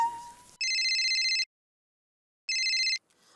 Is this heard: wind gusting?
no